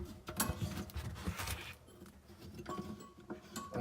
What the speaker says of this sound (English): Now I'm taking off the plunger on the back. Just remove the clip.